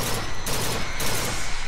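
Rapid gunfire from a FAMAS burst rifle in the video game BioShock Infinite, loud, dense and continuous volleys with the shots blurring together over about two seconds.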